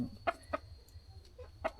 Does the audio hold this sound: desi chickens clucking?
yes